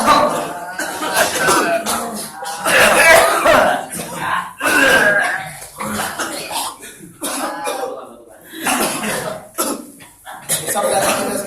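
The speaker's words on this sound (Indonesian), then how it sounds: "Tarik arah ke mulut, batukan." Several people cough and clear their throats during a ruqyah healing session, loud and close, in repeated overlapping bursts mixed with voices and shuffling.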